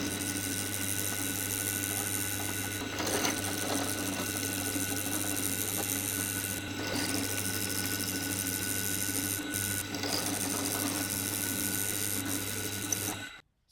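A power drill runs continuously while drilling out pins during a DQ500 dual-clutch transmission billet centre install, a steady loud whine with a constant hum that cuts off abruptly at the end.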